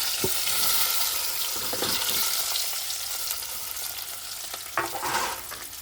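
Boiled, cut potatoes sizzling in hot cumin oil, a steady hiss with bursts of spattering as pieces land and scraping stirs, close and fairly loud, with no talk over it.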